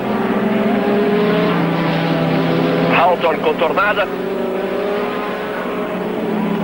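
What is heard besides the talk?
Formula 1 race cars at high speed, 1985 European GP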